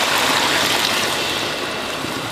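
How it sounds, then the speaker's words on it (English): Broth poured into a cooking pot in a home kitchen, a steady, close splashing and gurgling pour that holds at an even level throughout without pause or talk. "We're going to pour this broth over into here."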